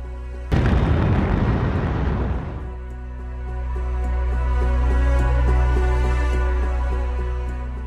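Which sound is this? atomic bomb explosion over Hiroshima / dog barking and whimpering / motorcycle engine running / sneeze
atomic bomb explosion over Hiroshima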